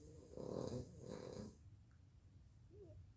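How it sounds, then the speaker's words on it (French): A dog snores softly nearby, two low rumbling breaths in quick succession, then quiet breathing in a hushed room. "c'est mon chien qui ronfle."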